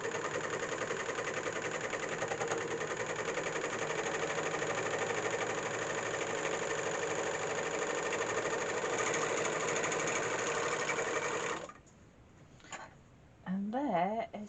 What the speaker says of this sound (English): there is sewing the elastic on with a serger